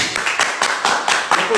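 Hands clap in a quick, even series of about seven claps within under two seconds, close and fairly loud, with a voice talking over them.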